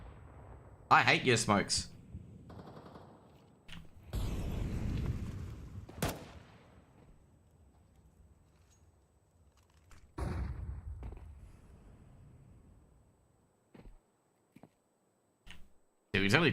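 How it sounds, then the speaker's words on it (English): Gunfire in a competitive tactical shooter match with smoke grenades in play, heard as sharp bursts and isolated shots at varying distances, mixed with utility sounds, while players talk over the action. "A lot of gunfire coming on"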